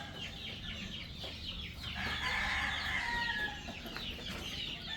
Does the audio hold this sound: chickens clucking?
yes